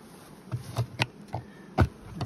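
Honeybees buzz around a beekeeper's bee truck, several insects sweeping close past in brief swells of buzzing over a quiet outdoor background.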